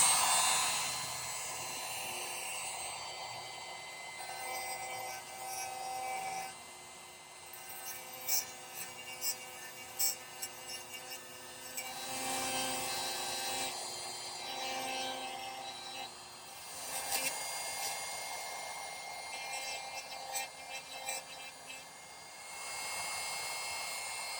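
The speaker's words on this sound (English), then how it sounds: "let's go over and use the rotary tool with a burr on there" A rotary tool with a tiny burr carving into a sterling silver pendant, a thin high whine that runs steadily with brief surges and dips as the bit bites into the metal.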